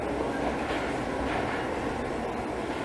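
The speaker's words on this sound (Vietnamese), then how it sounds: "Cái tàu điện ngầm này mà mình lấy, mình sẽ đi là tàu điện ngầm số 10" A Paris metro train on line 10 pulls into an underground station with a steady, loud rumble and hiss of wheels on rails that fills the whole stretch without any talk.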